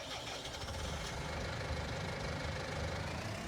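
Tractor engine running in Farming Simulator, a steady mid-pitched diesel drone with a faint rhythmic knock, constant and fairly quiet with no change in revs.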